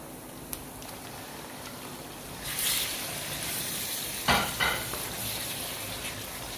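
Finely cut chicken sizzles and fries in a handi, a steady soft crackle and hiss, broken by a few louder stirring scrapes and spatters partway through, with no talk.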